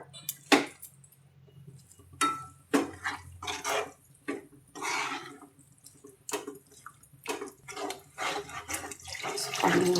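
Water poured into a pan of sautéed vegetables (a Marathi chole-dana shole bhaji with raw tomato and spinach), coming as intermittent splashing bursts with clinks and pauses between them, close and moderately loud, with no talk.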